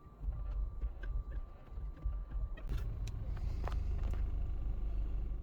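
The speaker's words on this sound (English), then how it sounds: "we will leave the car running the whole time" A Nissan Altima engine idles with a steady low rumble during a CVT transmission fluid change, with faint clinks and small mechanical knocks scattered over it.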